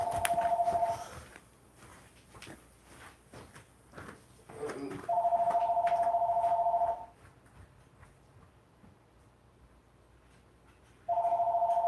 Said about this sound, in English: Hold on, phone's ringing.